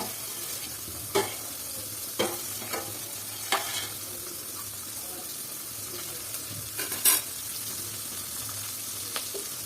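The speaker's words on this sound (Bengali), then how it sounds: "আর এখন সবজিগুলো ভালো করে ভেজে নেবো।" Vegetables stir-fried in a hot pan for fried rice, a continuous close sizzle broken by sharp scrapes and clacks of a spatula at irregular intervals, with no voices.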